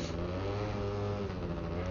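A two-stroke Yamaha BWS scooter engine revs steadily and close, a continuous buzzing drone at sustained high revs while climbing a mountain road, with no voices.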